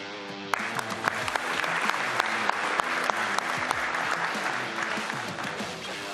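Sustained audience applause honours Aïcha Koulibaly, a dense, even patter of many hands with sharper claps standing out and low murmurs beneath, steady throughout.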